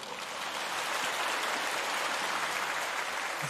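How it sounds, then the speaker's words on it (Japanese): Spectators at a home professional basketball game against SR Shibuya in the 2020-21 season applaud in the arena, a dense, sustained wash of clapping that holds steady throughout with no talking. "熱い拍手をよろしくお願いします。"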